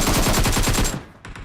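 Rapid automatic gunfire in the video game PUBG Mobile, a loud, close burst of about ten evenly spaced shots that stops abruptly, followed by a faint echo and a couple of quieter distant cracks.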